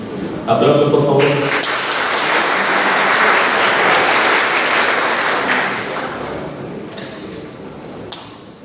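Audience applause at a conference hall in Spain or Latin America, a broad dense wash of clapping that swells after a brief announcer voice at the start and fades toward the end, with a voice heard over the tail.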